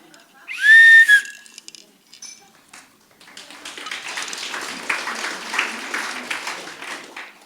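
A referee's whistle blown on stage at a youth carnival comedy championship: one sharp, loud, trilling blast, followed by a pause and then swelling applause from the audience.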